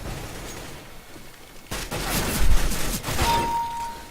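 Gunfire in the Counter-Strike video game: a sudden burst of shots at mid-clip, followed by a ringing, rattling tail and a short whining tone, after a quiet stretch.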